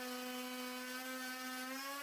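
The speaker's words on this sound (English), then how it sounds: "I achieved this by drilling a large hole in the center, followed by a smaller one that went all the way through" A power drill bores a large hole through the center of a base, running as a steady high-pitched whine with a strong sustained tone and bright harmonics, continuous and close for the whole stretch.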